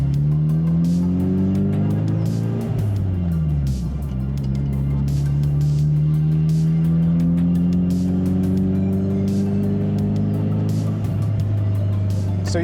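A car drives along the road, its engine loud and close, revving up through rising and falling gear changes with a steady drone in between.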